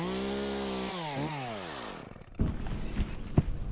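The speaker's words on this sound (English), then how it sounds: "as soon as that chainsaw comes out, I'm definitely tied in twice" A chainsaw revs with a rising, falling whine, then drops into a rougher, choppier buzz as it bites into a tall pine limb, close and loud.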